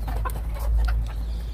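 Chickens clucking in a homemade cage on a rooftop, several birds giving short, close calls over a steady low background rumble.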